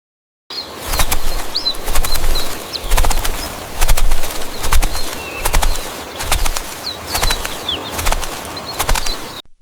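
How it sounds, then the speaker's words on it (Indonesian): A small bird in a children's fairy tale flies toward a palace, its wings beating in repeated soft fluttering bursts, close and fairly loud, with no talking. "Cempala Kuneng sudah terbang menuju istana"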